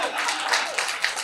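An audience claps during a Tamil talk at a book fair: a brief, steady patter of many hands, fairly close and with no voice over it.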